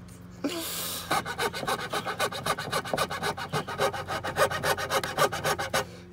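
Hand saw cutting through a thick piece of wood in long, steady back-and-forth strokes, close and loud, each stroke a rasping burst in a regular rhythm lasting several seconds with no talking.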